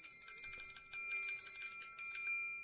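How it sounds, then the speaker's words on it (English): A small bell rings on a live stream to mark a super chat, giving a bright shimmering ring that sustains evenly for a few seconds with no speech over it. "I'm going to ring the bell."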